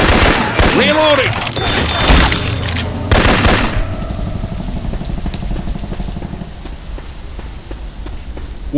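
Weapon sound effects from Left 4 Dead 2, with guns swapped for Syphon Filter sounds, crackle in loud rapid bursts of gunfire. Voices call out over the shooting, and the firing gives way to a quieter stretch of scattered noise.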